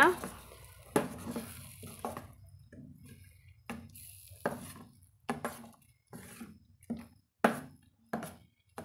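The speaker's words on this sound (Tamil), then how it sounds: "சிம்மிலே வச்சுட்டு நம்ம கூட கலந்து விட்டுக்கலாங்க." A spoon stirs ground tomato paste in a pan over a low flame, with a steady run of soft scraping strokes and light clinks against the metal, and a faint sizzle underneath.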